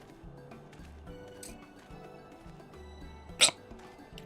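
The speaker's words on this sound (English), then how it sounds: "Ah, all of a sudden hiccups." A single sharp hiccup from a person stands out clearly over a quiet background of soft game music and ambience during a Final Fantasy XIV play session.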